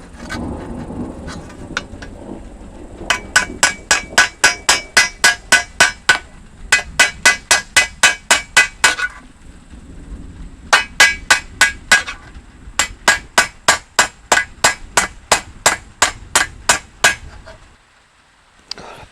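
A hammer peening a scythe blade on a FUX jig, bright metallic strikes in rapid even runs of about ten blows each, separated by short pauses, close and loud.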